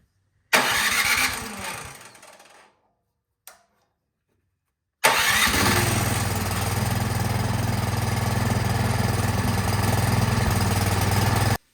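A snowblower engine with a freshly cleaned carburetor, choked and set to run, cranks with a brief burst and stops, then fires and settles into a loud, steady idle that carries on alone without talk.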